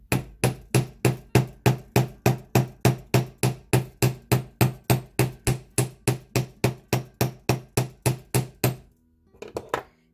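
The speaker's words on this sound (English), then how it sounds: "I'm going to start with the flat side of my hammer, and then I'm going to work my way around over to the rounded side to add some texture." Metal hammer strikes flattening and texturing jewelry wire for wire-wrapped earrings, switching from the flat face to the rounded face. About two dozen sharp, evenly spaced blows land in a steady rhythm, close and loud, followed by a few lighter taps.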